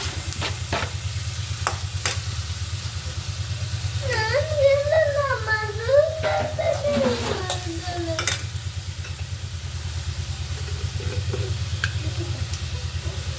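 Tomatoes fry and get stirred in a pan, giving a constant sizzling hiss with scattered spoon scrapes and taps over a low steady hum, while a voice briefly sings or talks in the middle.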